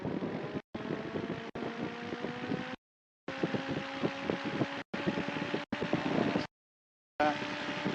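Small single-engine training plane sitting in the run-up area with its engine throttled up to 2000 RPM, a steady droning hum interrupted by several abrupt cutouts in the recording.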